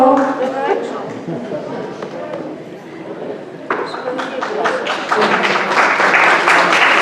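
Applause fills a lecture hall on ancient Greek theater, a dense crowd of clapping that swells louder toward the end with voices mixed in beneath it.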